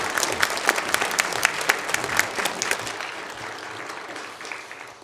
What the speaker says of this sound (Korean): 우리 고맙습니다 하고 박수 한번 보내드립시다